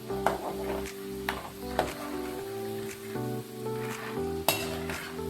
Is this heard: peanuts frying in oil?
yes